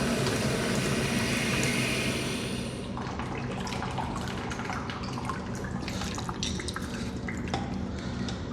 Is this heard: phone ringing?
no